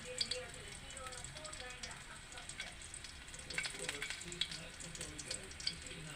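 Crab (alimasag) sautéing in a hot pan, a soft steady sizzle with occasional stirring clinks, quiet and close, with a voice speaking faintly over it.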